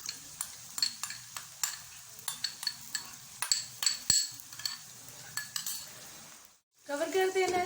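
A spoon stirs yogurt into frying ground masala in a pan for eggplant bharta, with repeated scraping strokes and light clinks against the metal over a faint sizzle, then a brief pause before louder sizzling resumes.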